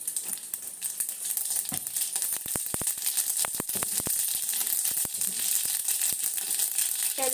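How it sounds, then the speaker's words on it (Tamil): Mustard seeds crackling in hot oil as tempering for pirandai rasam: a steady hiss of frying with sharp, scattered pops and ticks, close and fairly loud. "கடுகு போடுறேன்."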